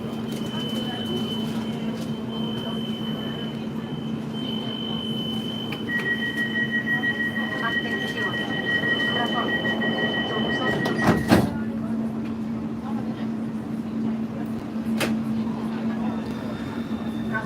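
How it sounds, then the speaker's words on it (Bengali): A metro train rumbles steadily along with a high whine and brief squeals, with people talking faintly in the background. "দেখেন মেট্রো এদেশের মেট্রো দেখেন"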